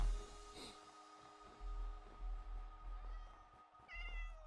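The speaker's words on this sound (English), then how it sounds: "Hello, little cat." Cat meowing in the video game Minecraft: a soft meow near the start and another near the end, both fairly quiet and alone over faint game ambience, with light breathy snorts between.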